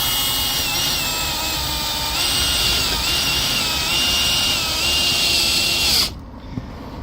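A power drill drives screws into a shelf bracket during a tunnelhouse assembly, giving a loud, steady whine close by for about six seconds before it stops abruptly.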